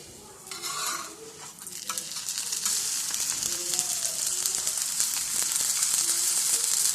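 An omelette paratha fries in oil on a pan, giving a loud, steady sizzle that swells over the clip, with a few soft scrapes and clinks of utensil on metal up close.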